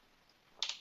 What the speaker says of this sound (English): then I'm hitting the enter key